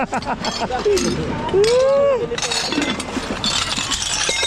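Ceramic saucers clink and crack against each other as they are handled and one breaks, set amid discarded goods at night. People talk nearby throughout.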